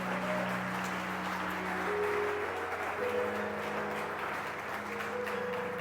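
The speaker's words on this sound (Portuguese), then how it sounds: "Alguém aplaude em nome de Jesus." A church congregation applauds softly from a distance, a steady wash of clapping with faint sustained organ-like tones underneath.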